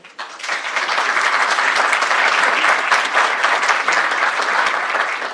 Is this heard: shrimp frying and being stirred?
no